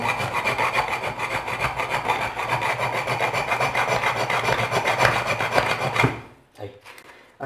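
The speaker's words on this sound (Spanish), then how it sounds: "Es cuestión de darle lima" A hand file rasps back and forth on a small part for a homemade reversing lever for H-bridge motors, in steady close strokes that continue for about six seconds, then stop.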